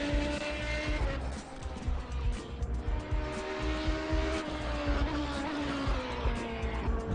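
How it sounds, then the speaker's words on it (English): A race car on its victory lap at Silverstone during a VMSC Weekend Series race, its engine a continuous, fairly loud drone with steady harmonics and faint tire noise mixed in, no voices. "There is your race leader"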